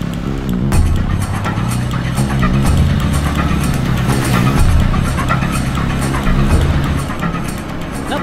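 A car pulls away in a Tamil film scene, its engine running hard with a dense, steady roar that stays loud and close for the whole stretch.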